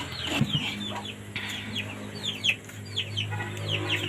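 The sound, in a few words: chickens clucking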